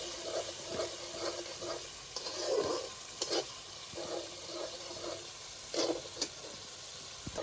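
Spice paste for Bengali hing cholar dal cooking down in oil with a little ghee, giving a soft, faint sizzle punctuated by occasional scraping stirs of a spoon, close and quiet with no voices.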